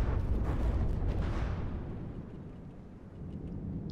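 Booming weapon fire and explosions from the naval combat game From The Depths, including an EMP particle cannon and other guns, a dense rumbling barrage that rolls on loud and then gradually fades.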